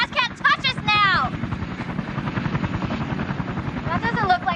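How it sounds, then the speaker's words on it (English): A military helicopter flies overhead, its steady rotor chop loud and close throughout, with excited voices talking over it at the start and again near the end. "Is that a military helicopter?"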